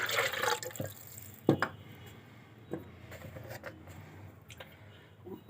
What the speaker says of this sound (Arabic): معايا كوبايه ونص لبن، ادي النص وادي الكوبايه